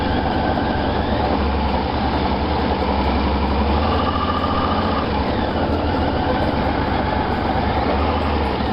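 Honda Goldwing motorcycle engine running steadily and loud up close, with a throttle rising and falling in pitch over a continuous rumbling drone.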